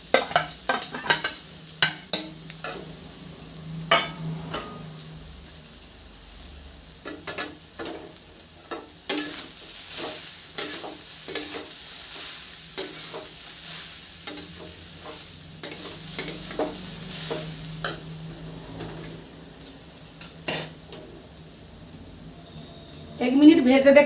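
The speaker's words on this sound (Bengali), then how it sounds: "এক মিনিট ভেজে দেখাচ্ছি।" Grated coconut from three medium coconuts fries in white oil in a wok, a steady sizzle broken by frequent scraping stir strokes throughout, close and fairly loud, with a louder clatter near the end.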